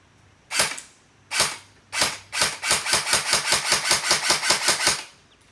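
An airsoft gun is test-fired from a Lonex 200-round midcap magazine: three loud, separate single shots, then a rapid burst of about a dozen sharp, evenly spaced shots, close and with no talk.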